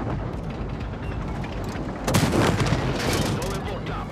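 Tank cannon shots in an online tank battle game boom over a dense, rumbling battlefield din, one heavy blast standing out midway among continuous mechanical noise and engine drone.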